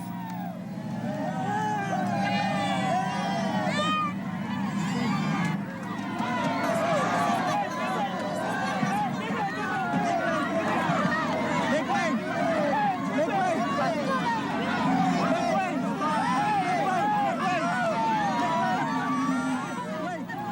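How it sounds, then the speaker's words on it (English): Crowd of supporters surging around Imelda Marcos in exile in Hawaii, a dense continuous babble of many voices and excited chatter, close and steady throughout with occasional louder shouts rising out of the mass. "The crowd surged forward to envelop her in support"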